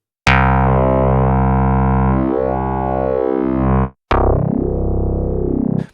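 A loud Arturia Pigments synthesizer tone with a sweeping, rippling fractalize modulation that folds and shifts its harmonics, cutting off briefly before a second sweeping note.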